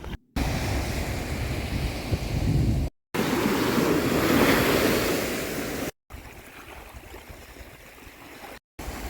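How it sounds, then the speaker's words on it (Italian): Sea waves on a sandy beach at Pistis, Marina di Arbus in Sardinia in winter: a continuous close wash of surf with wind buffeting the microphone, broken by brief cuts of silence. "sentite il rumore delle onde"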